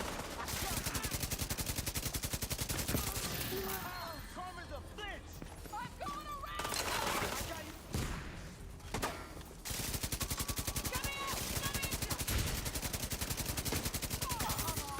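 Sustained LMG machine-gun bursts in the shooter game The Division 2, rapid continuous fire with brief pauses between long strings, loud and close, with game voices and effects mixed in.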